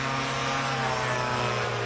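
Chinook aircraft taking off at a STOL short takeoff and landing competition, a steady loud droning engine and propeller roar with a low hum, close and continuous throughout.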